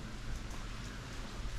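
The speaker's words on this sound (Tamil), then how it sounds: "மழை பெய்ய ஆரம்பிச்சிச்சு" Steady rain falling at a Jain temple site in Mumbai, a continuous dense patter with no voices, even in loudness throughout.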